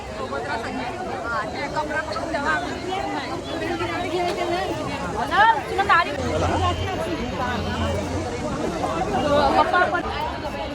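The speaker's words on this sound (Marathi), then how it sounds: "गाईज इथे मंदिरात बघा किती गर्दी आहे." A dense crowd chatters inside a packed temple, with many overlapping voices forming a steady, busy murmur. Occasional louder exclamations rise above it.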